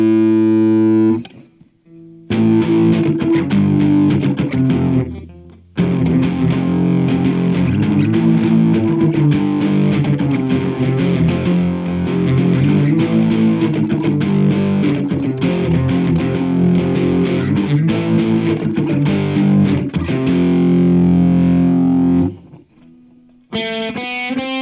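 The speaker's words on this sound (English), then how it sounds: "So now when I play my guitar, I can actually hear this effect as I'm playing." Electric guitar played live through a realtime effect in Bandlab Cakewalk, a dense distorted, chorus-tinged tone sustaining chords steadily for about twenty seconds, with brief quieter gaps at the start and end.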